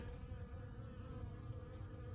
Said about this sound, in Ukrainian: а туди спокійно залітають